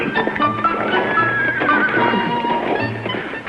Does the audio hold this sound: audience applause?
no